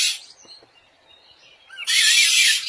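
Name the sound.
cartoon character imitating a bird call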